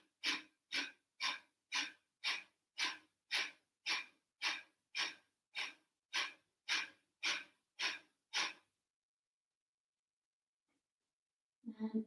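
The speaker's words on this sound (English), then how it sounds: "And let's try the breath of fire." Rapid, rhythmic yoga breath of fire: about seventeen sharp forced exhalations in an even pulse over roughly eight seconds, close and fairly loud, followed by silence and a brief breathy sound at the end.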